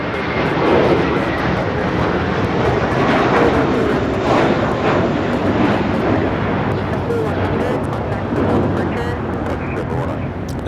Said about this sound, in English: This is JetBlue 100 taking off to Fort Lauderdale on the A321 Suavemente.